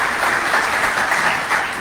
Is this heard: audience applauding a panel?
yes